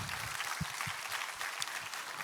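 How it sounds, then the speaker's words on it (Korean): Church congregation applauding during a Sunday service, a steady dense patter of clapping that holds level for a couple of seconds with no voices over it. "우리 하나님께 영광의 박수 올리도록 하겠습니다."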